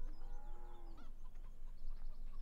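Chickens cluck and chatter continuously in a farm pen in Farming Simulator 17 on the De Terra Italica map, a steady close flock with no talk over it.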